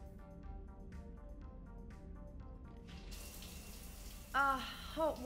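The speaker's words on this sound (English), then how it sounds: "I figured you'd be more interested in a shower." Shower water running steadily in the video game Mass Effect Legendary Edition, a soft even hiss that grows louder partway through, with a voice speaking near the end.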